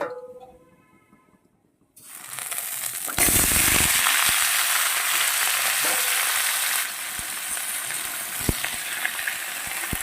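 Vegetables land in hot oil with dry red chillies and five-spice, starting a loud, steady sizzle that roars up after a quiet moment and keeps going, easing slightly later, with occasional clicks of stirring.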